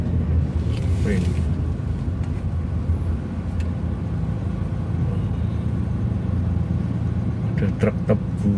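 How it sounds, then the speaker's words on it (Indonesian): A sugarcane truck's engine rumbles steadily nearby as it passes during the cane harvest, a loud continuous low drone filling the whole stretch, with brief higher clatter near the end. "ada truk tebu,"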